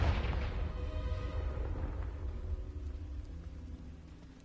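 A single Confringo blasting-spell explosion in the Hogwarts Legacy video game: a loud, deep boom that starts sharply and then fades out slowly, with no talk.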